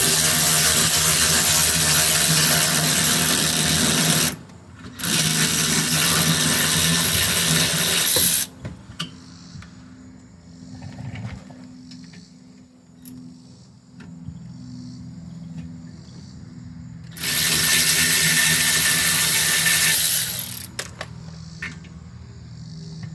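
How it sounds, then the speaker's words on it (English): Power ratchet spinning out brake caliper bolts on a Nissan Rogue during a rear brake pad job: two loud, close, sustained whirring bursts, the first about eight seconds long with a short break, the second around three seconds, with quiet handling noises between. "you can use your power ratchet, if you have one, to take them out, which is a lot quicker"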